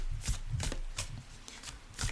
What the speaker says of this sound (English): Okay, shuffle the cards.